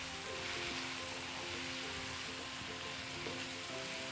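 Chicken teppanyaki with soy sauce sizzles and is stirred in a pan, giving a steady, close frying hiss with faint scraping, alone and without speech.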